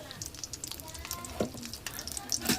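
A mughlai paratha frying in oil in a kadai, giving a soft steady sizzle with a few louder crackles and scraping touches as the piece is turned.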